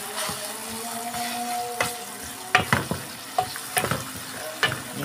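Chopped tomatoes sizzle and fry steadily in a hot pan, with intermittent scraping and stirring knocks from a utensil punctuating the continuous crackle, close and moderately loud.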